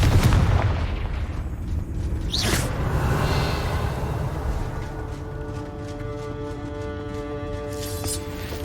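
Confringo blasting spell cast in Hogwarts Legacy, a heavy boom with a whooshing burst early on, followed by a lingering rumble and scattered crackles fading over several seconds.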